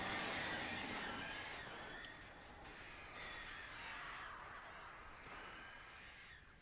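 Crows cawing in a video game, a dense flock calling over a steady noisy wash of game sound, loud at first and continuing throughout with no clear talk over it.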